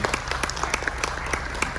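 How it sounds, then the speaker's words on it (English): A crowd at a military appreciation gathering aboard the cruise ship Carnival Liberty applauds steadily, many hands clapping in a dense, continuous patter that holds at an even level throughout. "how about a big round of applause for all of those who are currently still serving?"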